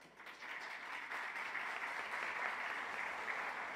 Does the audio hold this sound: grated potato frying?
no